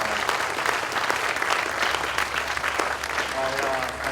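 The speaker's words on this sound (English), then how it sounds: "Give her a big round of applause." A gala audience at the Ronnie James Dio Stand Up & Shout Cancer Fund awards gives a full, dense round of applause that holds steady throughout, with a voice faintly underneath.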